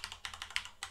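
Rapid keyboard typing on a computer, a quick run of soft clustered key taps heard close and alone with no voices.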